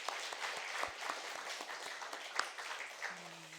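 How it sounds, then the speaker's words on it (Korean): A church congregation at Sunday worship claps together to welcome newcomers, a soft, steady spread of many hands heard at a distance, fading slightly toward the end. "참 잘하셨으면 박수 한번 하겠습니다."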